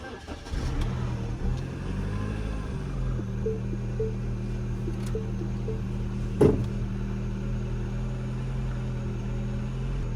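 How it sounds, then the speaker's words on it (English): A Mini Cooper with a faulty VVT solenoid cranks and catches, then settles into a low, uneven idle that rumbles steadily up close, with a brief sharp knock partway through and no talking. "I'm going to start this car up and see if it's still kind of running rough"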